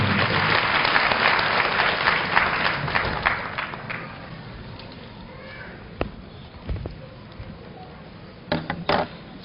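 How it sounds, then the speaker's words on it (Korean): Applause at a university graduation ceremony, a large hall audience clapping in a dense, sustained burst that thins out and dies away, leaving a few scattered claps and faint room noise. "뜨거운 박수로"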